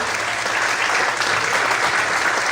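A church congregation claps steadily for a couple of seconds, a dense, loud, even wash of applause with no voices over it.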